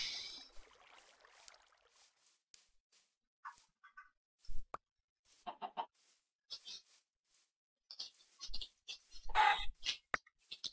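Chickens clucking in a Minecraft-style blocky video game, short scattered clucks and bird calls coming in bursts over near silence, with a few clicks and knocks mixed in.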